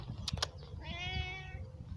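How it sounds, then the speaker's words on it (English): A cat named Cheddar gives a single drawn-out meow, close and clear, after a couple of faint clicks, with low rumbling background noise beneath. "And the cat says hello as well."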